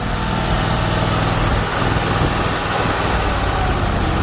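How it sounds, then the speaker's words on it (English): A small gas engine on farm seed-cleaning equipment idles loudly and steadily, a continuous rough drone with no speech. "Idle the engine down."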